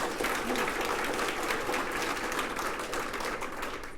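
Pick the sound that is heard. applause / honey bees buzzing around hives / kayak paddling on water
applause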